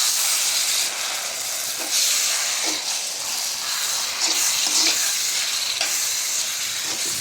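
Curry paste fries with onions in a pan after excess oil is drained, for pickled geelbek fish, making a continuous close hiss and sizzle with a few faint clicks and scrapes of stirring.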